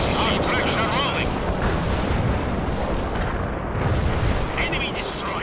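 Missile and artillery fire rumbles in a World in Conflict battle as a dense, continuous barrage of booms and blasts, loud and close, with game voices talking over it.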